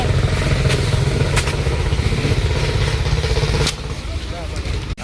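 A tractor engine chugs loudly and steadily with a rhythmic, rattling low thump, then the sound drops off near the end.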